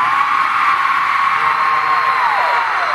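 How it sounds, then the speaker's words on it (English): Huge stadium crowd at Gillette Stadium screams loudly and continuously, a sustained high-pitched roar of many voices with rising and falling shrieks. "you're also very good at screaming"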